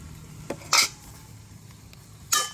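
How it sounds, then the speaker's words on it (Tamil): A spoon scrapes and clinks against a pot while a potato, cabbage and leek mixture is stirred. Three short metallic knocks stand out over a quiet background. "நல்லா பிரட்டி விடுவோம்."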